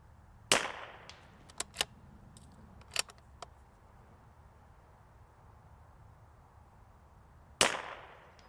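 Sharp .22LR shots from a CZ 457 rifle ring out on an outdoor range and strike steel targets: one loud crack near the start and another near the end, with a few fainter ticks and clinks in between.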